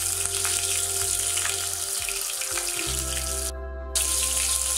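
Fenugreek seeds hit hot oil for a Kottayam-style sardine chilli curry, giving a steady, bright sizzle that crackles continuously, with a brief dip near the end before resuming.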